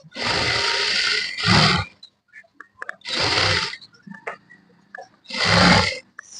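A sewing machine stitches puff-sleeve blouse fabric in three short, loud runs, with quiet pauses between them holding small clicks and handling sounds.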